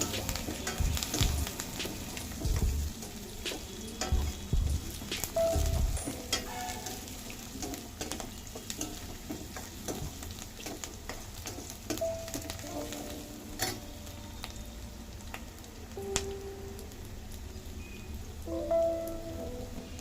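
Aloo palak sizzles steadily in a pan while being stirred, with scattered scraping clicks and crackles over a continuous frying hiss throughout.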